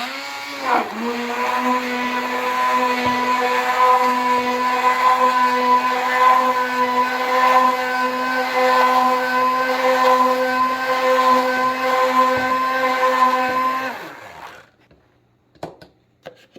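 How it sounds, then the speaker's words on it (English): A loud, steady electric whir of an immersion blender mixing pot roast ingredients runs for about fourteen seconds with a constant pitch, then cuts off, leaving a few light clicks. "I'm just gonna take and mix it up with my immersion blender"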